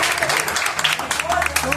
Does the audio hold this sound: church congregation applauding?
yes